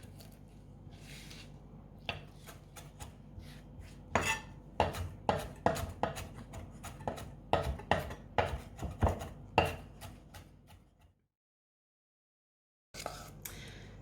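A knife chops basil on a cutting board, a steady run of close, crisp knocks against the wood that speeds up, then stops for a short silence before a final few cuts.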